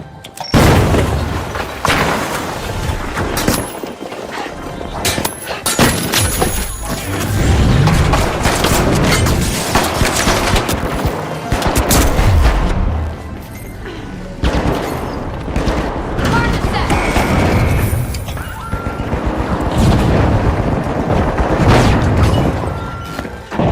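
Repeated explosions and heavy gunfire in the arena shooter The Finals, loud booms and thuds crowding a dense, chaotic battle mix that continues throughout.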